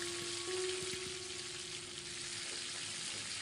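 Peas frying with potatoes and spices for matar paneer give a steady, close sizzle with faint stirring, with no talking.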